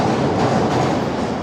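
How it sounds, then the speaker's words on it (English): A train passing close by with a loud, continuous broadband roar and rumble of rolling cars, steady throughout with no pauses or talking. "So that train is going past right now."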